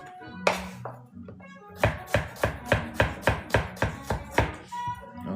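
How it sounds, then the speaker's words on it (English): A knife cuts bell peppers into julienne strips on a board: a few scattered taps, then a quick even run of about a dozen sharp, close chops, with no talking. "So, peppers for our stir fry. All right, we're gonna cut up real quick."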